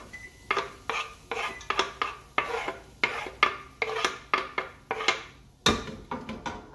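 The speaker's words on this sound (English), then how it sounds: "I sweat off the veggies" Garlic, onion and peppers sweating in a pot for one-pot ackee and saltfish, heard as a steady run of close metal scrapes and clinks from a spoon against the pot, with a soft sizzle underneath and no talking.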